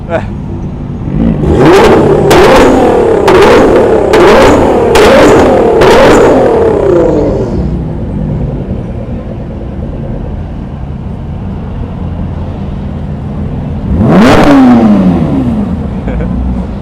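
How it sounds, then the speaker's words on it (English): Porsche GT3 sports cars in a long line at an AAPI cultural and heritage parade in New York City rev their engines loudly in a rapid series of sharp bursts, then settle to an idle rumble before another roaring rev near the end. "They're in a rev off or something."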